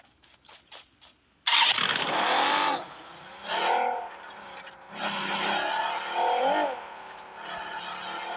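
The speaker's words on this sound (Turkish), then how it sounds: "Aha bir tane araba bulduk." Car engine in a video game with a Turkish-speaking player: a few faint clicks, then a loud engine bursts into life and revs in several surges, running steadily throughout with no talk.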